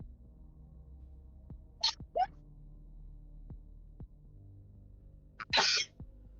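A person sneezes twice, sharp quick bursts rising out of a quiet room, with faint clicks and low background hum between them.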